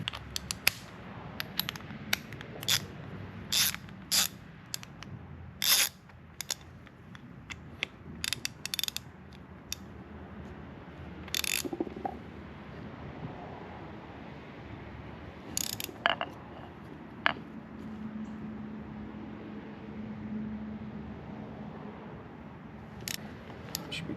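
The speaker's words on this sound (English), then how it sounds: "We'll get out our torque wrench" A torque wrench ratchets in short bursts of quick clicks while a steering shaft is installed on a 1994-2004 GM S10 truck, with metallic tool handling and shop clatter in between, fairly close.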